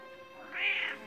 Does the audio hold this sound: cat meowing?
yes